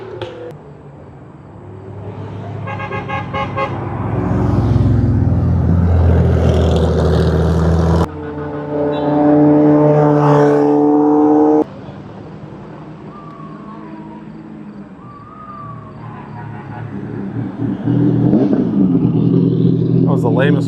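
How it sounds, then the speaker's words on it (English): A hypercar engine revs briefly at a crowded car show, a short rising mechanical roar in the middle with loud chatter and shouting voices all around. "That was the lamest rev ever."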